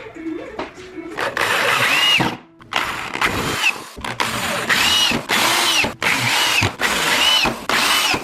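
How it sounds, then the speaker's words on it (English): A power drill drives screws into clamped boards while closet furniture is built. It whirs in about seven loud, close bursts, each a second or so long, separated by short pauses. "After I get it clamped, I'm going to put the screws in."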